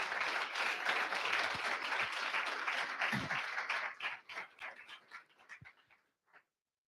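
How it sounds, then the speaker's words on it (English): Ceremony audience at an achievement recognition event gives a big round of applause, dense clapping that holds for about four seconds, then breaks into scattered individual claps and fades to silence. "I think you all deserve another big round of applause."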